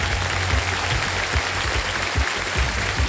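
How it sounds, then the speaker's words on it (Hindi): A Kaun Banega Crorepati studio audience applauds the week's ten new contestants, with loud continuous clapping over a low rumbling bed of sound. "जोरदार तालियां बजती रहें इनके लिए"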